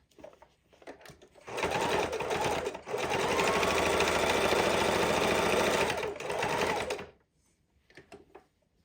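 Sewing machine stitching a fidget quilt, near and clear, running in two steady bursts of rapid chattering stitches with a brief pause between, surrounded by quiet handling sounds.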